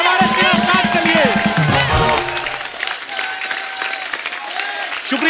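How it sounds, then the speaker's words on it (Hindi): Loud studio audience applause with some cheering greets a star guest on a Hindi comedy show, a dense steady clatter of clapping that fades slightly midway but continues throughout. "जोरदार तालियां हमारे स्टार्ट के लिए।"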